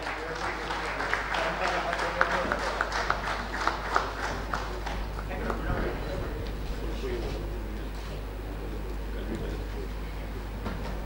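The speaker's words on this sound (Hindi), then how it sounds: "आप सभी जोरदार तालियों से एक बार स्वागत करें" A conference audience at a smart city event in Bhopal claps in welcome for an official, with the applause rising in bursts early on and then thinning into a rumbling background murmur, partly overlapped by voices.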